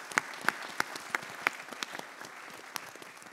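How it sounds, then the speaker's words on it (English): Small audience at a theatre play briefing clapping, a sparse, fairly faint patter with a few sharper individual claps standing out and no talking. "A round of applause for all of these wonderful people,"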